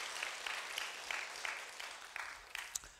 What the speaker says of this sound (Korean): 우리 다시 한번 박수 한번 해주셔요.